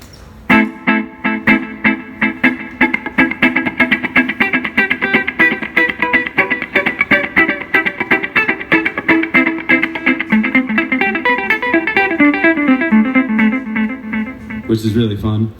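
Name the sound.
guitar delay pedal repeating taps in dotted eighths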